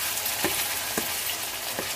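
Mutton pieces frying in an oily spinach masala for palak gosht, a steady crackling sizzle close by with occasional stirring scrapes roughly every half second.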